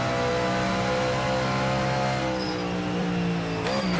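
Race car engine in the Project Motor Racing sim game, a sustained mid-pitched engine drone holding steady with harmonic layers, ending with a quick pitch swoop like a downshift, heard alone without talk.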